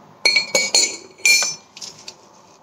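A metal spoon strikes drinking glasses set out for a tea tasting, giving about four bright, ringing clinks in quick succession, then a few softer taps and rattles, close by with no talking.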